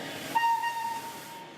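An old steam train near Florence bound for the Tuscan village of Marradi, with a loud sustained whistle blast rising over a steady rumble and hiss, then holding on and slowly fading.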